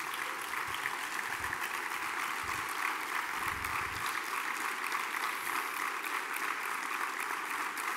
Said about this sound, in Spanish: el premio Antonio Lozano y pido un aplauso a su memoria.